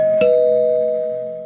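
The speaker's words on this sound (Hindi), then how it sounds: "तभी घर की डोरबेल बजी।" A doorbell at a house at night sounds once with a clear electronic ding, a bright strike followed by a long, steady ringing tone that slowly fades, loud and alone.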